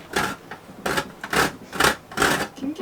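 Hammer blows cracking whole nutmeg for a banana cake aboard a sailing boat, about five sharp, evenly spaced knocks, each with a short crunch, fairly close and loud.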